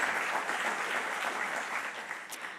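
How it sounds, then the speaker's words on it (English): A conference audience claps steadily for a cancer institute sponsor, a dense, even wash of applause at moderate distance that holds throughout, with no voices over it. "Just one more round of applause for them, please."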